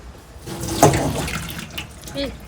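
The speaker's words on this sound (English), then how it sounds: "So we take it, drain it and rinse it." Water runs and splashes as soaked soya mince is drained and rinsed in a metal bowl at a kitchen sink, a continuous close-up trickle with a brief louder splash near the start. No speech is heard.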